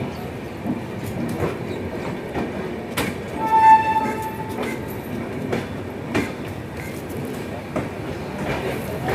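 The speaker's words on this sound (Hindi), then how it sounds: "6 नंबर प्लेटफॉर्म पर अपना अराइवल हुआ है" Rumbling railway noise of the Secunderabad–Hazrat Nizamuddin Duronto Express rolling in at a platform in light rain, with clattering, a brief high whistle-like squeal midway, and steady background hum.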